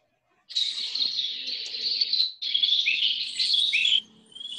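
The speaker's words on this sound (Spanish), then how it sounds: "¿Escuchan el canto de los pájaros?" Dense, bright birdsong fills the air, a continuous stream of high chirps and trills from several birds close by, with no talking.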